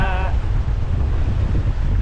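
Strong wind buffets the microphone on a sailboat heading into the wind on Moreton Bay, with waves washing around the hull in a loud, continuous roar.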